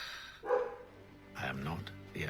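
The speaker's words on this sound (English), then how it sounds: "I'm sorry for the barking." Dogs barking in the Assassin's Creed 3 video game, a few short yips and barks at moderate distance, mixed under a voice.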